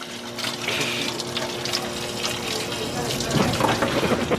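Water gushes from a roadside vending machine dispenser into a container, making a steady rushing pour in the hot outdoors, with a voice speaking faintly over it.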